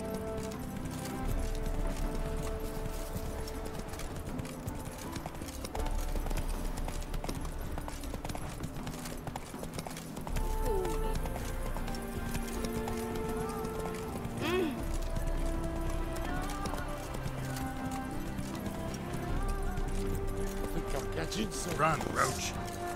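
Horse galloping in the video game The Witcher 3: rhythmic hoofbeats run steadily under game music and other effects, with a voice speaking at times.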